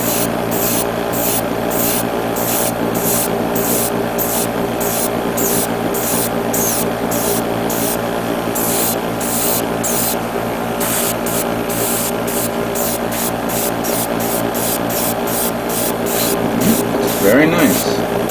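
Light passes of Finisher's Pure Yellow paint airbrushed over a white-primed 1/144 Real Grade Tallgeese III model kit, as rapid repeated short hissing bursts with steady background hum, close and continuous throughout.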